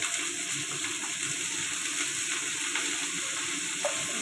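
Cauliflower florets seasoned with salt and turmeric fry in a pan, giving a constant, moderately loud sizzle with a watery bubbling texture and no voices.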